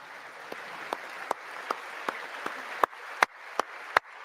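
Applause from members of Congress during Donald Trump's address, a steady bed of clapping punctuated by sharp, louder individual claps at regular intervals that stand out close by.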